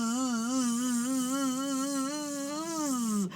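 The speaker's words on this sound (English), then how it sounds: "Suddenly, Rabbit heard the bees." Loud, steady buzzing of bees near a rabbit's pumpkin patch in a cartoon, a continuous droning tone that wavers slightly in pitch and ends with an abrupt drop and cutoff.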